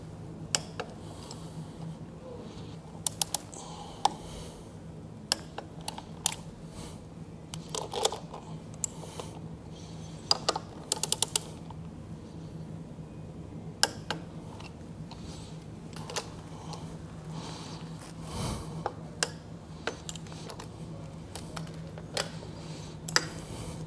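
Torque wrench tightening the inner WerkMaster pad driver bolts: scattered sharp clicks and ticks over a steady low hum, irregular and close, with no voices.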